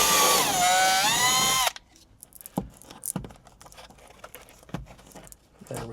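A power drill cuts a 1/2 inch hole in a truck headliner, a high whining drill sound that rises in pitch for under two seconds, followed by quiet scattered clicks and taps.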